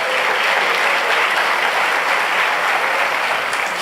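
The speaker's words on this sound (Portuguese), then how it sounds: "Pode aplaudir o Senhor Jesus." A church congregation applauding, dense sustained clapping from a large crowd that stays loud and even throughout, with no voices standing out.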